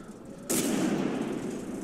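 A tank gun fires at an enemy's track in a tank video game: one loud, abrupt cannon blast breaks a quiet moment, then a broad rumbling tail slowly fades.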